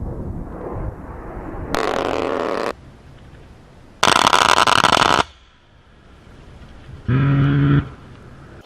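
Three loud, harsh buzzing bursts of rapid cannon fire from an A-10 aircraft, each lasting about a second, separated by quieter rumbling background noise.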